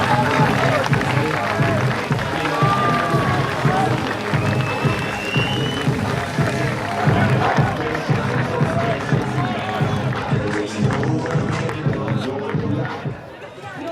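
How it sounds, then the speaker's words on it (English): Crowd applause and cheering at a long drive golf competition, steady and dense throughout with background crowd noise and announcer-style voices mixed in, tapering near the end. "A big round of applause."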